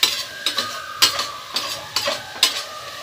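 Spices roasting (bhuna) in a hot pan, stirred with a spoon in steady strokes about twice a second, each scrape standing out over a faint continuous sizzle, close up with no talking.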